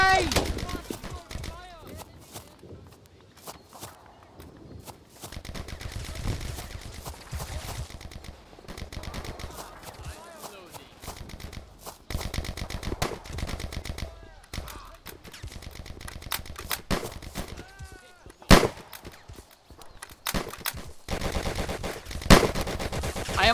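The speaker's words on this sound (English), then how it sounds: "I am under fire!" Rifle shots and machine-gun bursts from the World War II shooter game Easy Red 2. Some sharp cracks land close and others rattle further off in rapid volleys, with voices talking between them.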